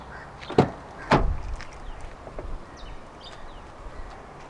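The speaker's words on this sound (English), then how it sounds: "To lock the car, press the chrome button on any of the front door handles." A 2018 Toyota Fortuner 2.4 locks via the chrome button on a front door handle, giving two sharp clunks close by, followed by faint clicks and quiet ambient noise.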